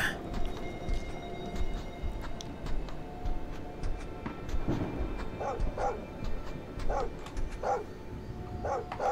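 A dog named Bella gives soft whimpers and short, yipping barks in a quick cluster, fairly near but quiet, over a low steady background hum.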